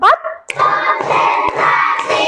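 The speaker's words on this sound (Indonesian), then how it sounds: "Coba tepuk 1, tepuk 2, tepuk 3," Students in an English class clap together in a counted ice-breaker rhythm: a few sharp, close hand claps land at roughly even half-second intervals over a steady room background.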